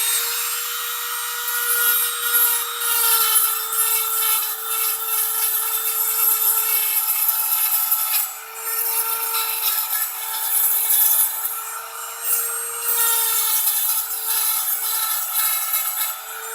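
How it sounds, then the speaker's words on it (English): A Dremel with a sandpaper or grinding bit works the cut edges of a copper pipe, giving a steady, continuous high whine with rough grinding texture running close up throughout, no talk. "if you have a Dremel with the little sandpaper piece, or the grinding wheels, you just take it"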